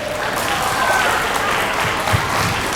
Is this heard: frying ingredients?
no